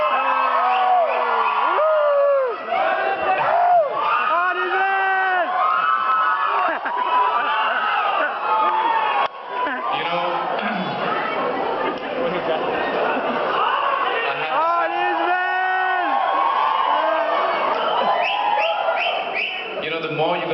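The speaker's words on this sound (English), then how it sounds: "the more you guys are whistling and screaming, the more nervous I'm getting" A large festival audience at the Toronto International Film Festival whistles, screams and cheers continuously, a dense, loud crowd roar with shrill whistles and whoops rising and falling throughout.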